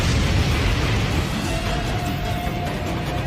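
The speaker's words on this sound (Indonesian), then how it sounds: "Sementara Mang Hojun sudah bersiap untuk menyulutnya demi memicu ledakan besar guna membakar tim Dewa Iblis" A big cinematic explosion setting oil-soaked enemies alight, heard as a sustained, loud, low roaring rumble of fire and blast that fills the whole stretch without speech.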